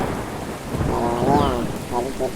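Heavy rain pours down steadily while thunder rumbles low and close through the downpour, with no voices.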